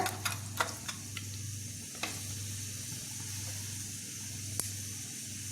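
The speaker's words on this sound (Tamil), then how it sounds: "நான் ஆல்ரெடி எண்ணெய் ஊற்றி காய வச்சதுனால இப்போ கடுகு போட்ட உடனே அது பொரிஞ்சிருச்சு" Half a spoon of mustard seeds crackles in four spoons of hot coconut oil, with a few sharp pops over a steady, low sizzle that carries on throughout.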